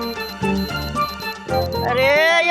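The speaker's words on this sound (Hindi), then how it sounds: "ये एक चेतावनी यंत्र की आवाज है जो तुम्हारे सिर पर बज रहा है।" A magical warning device chimes overhead in a bright, tinkling run of sparkling tones layered over a musical backdrop, swelling into a shimmering cascade in the second half.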